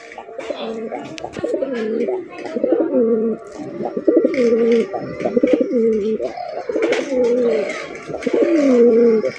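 A male pigeon coos loudly and close, with repeated rolling calls and a few sharp clatters and chirps in the background.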